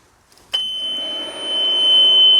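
A Boxer 320 mini skid steer gives a sharp, steady high-pitched warning beep at key-on that starts abruptly and holds continuously, with the low whir of its electric cooling fan running underneath.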